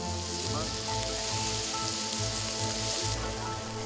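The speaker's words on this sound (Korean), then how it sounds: "지글지글 구워지는 한우." Korean hanwoo beef sizzles on a restaurant grill, a steady, loud crackling hiss of fat frying that runs continuously with no one talking.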